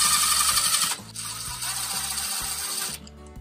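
Screws being backed out of the rear of a door deadbolt during an August smart lock installation, a steady whirring tool drone with a brief dip near one second, then stopping just before the end.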